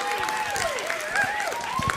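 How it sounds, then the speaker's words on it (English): Applause from an audience at a Bomba music night sits under a prominent sustained tone and some cheering, fairly loud throughout the short stretch. "Let's give him another round of applause."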